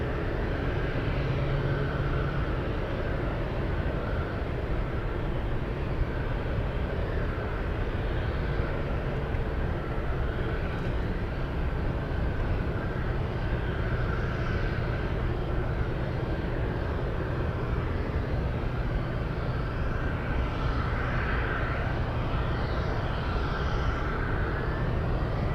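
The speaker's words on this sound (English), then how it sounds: "747 landing up." A Boeing 747 cargo jet lands, its engines a loud, sustained roar with a rumbling low end and a faint whine above, holding steady for the whole stretch with no voices.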